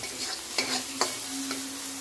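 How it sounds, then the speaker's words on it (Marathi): Pav bhaji masala roasts in a pan on a low flame, a soft continuous sizzle punctuated by three or four quiet scraping stirs. "छानपैकी कमी गॅसवर भाजून घ्यायचं।"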